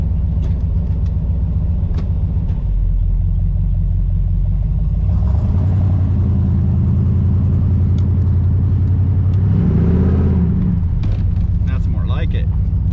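1982 Camaro with a 350 engine that had been stumbling, driving with a deep close rumble that swells as it accelerates in two pushes, with some speech in the cabin.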